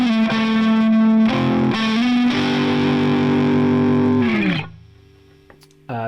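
Electric guitar with heavy distortion plays a song's outro in sustained, ringing chords and bends, then the distortion cuts out and a quieter clean note rings before a final loud strum returns.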